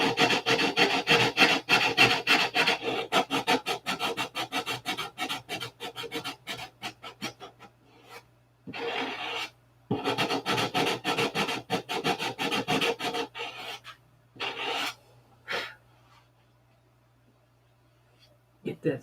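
A roll of sandpaper is worked by hand around a curve, making rapid rasping strokes in dense bursts. The bursts break into separate scratchy passes with short silent gaps between them.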